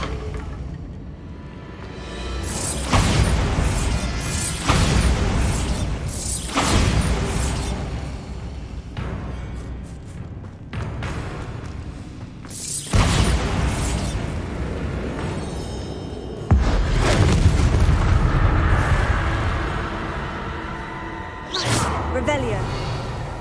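Bombarda blasting-spell explosions from the Hogwarts Legacy video game: several loud, booming bursts at irregular intervals over dense, continuous game sound.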